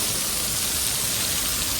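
A steady summer downpour in Morbi, heard as a continuous, even hiss of rain falling across surfaces, close and unbroken for the whole stretch with no voices.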